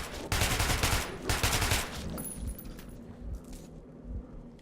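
Bursts of rapid gunfire from the video game Metro Redux rattle loudly for about two seconds, then fade into scattered clicks and quieter impacts.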